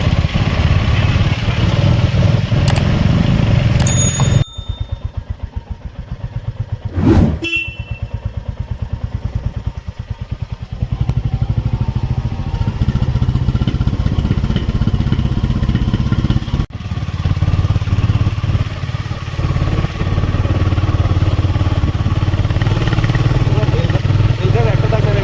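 A motorcycle engine runs steadily in gear on a hill road through Bijanbari, Darjeeling, a loud continuous mid-pitched drone with a few brief dips and clatters as the rider struggles with second gear, voices talking over it.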